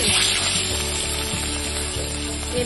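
Turmeric-coated bata fish sizzling and frying in hot oil, a steady loud crackle throughout with faint rhythmic stirring or scraping underneath, no voices.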